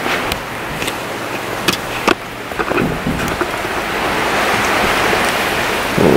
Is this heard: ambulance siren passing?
no